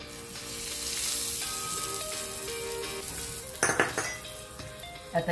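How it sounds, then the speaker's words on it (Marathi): Whole spices tempering in hot oil for a raw mango chutney, a steady close sizzle with metal clinks and stirring scrapes against the pan, louder bursts of crackle near the end. "आता चटणीसाठी फोडणी करून घेऊया."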